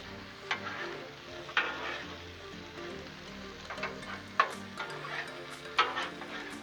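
Chicken, shrimp and vegetables sizzle on a Blackstone griddle as a spatula stirs them, a steady hiss broken by several sharp scraping strokes about once a second, fairly close and without talk.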